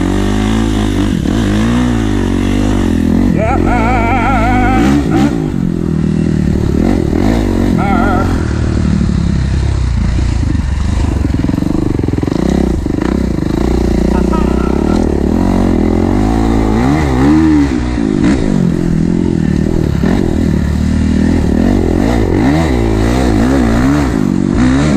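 A Kawasaki KX 450 dirt bike on a track revs hard and close, its engine surging and falling in repeated throttle bursts with mechanical clatter throughout.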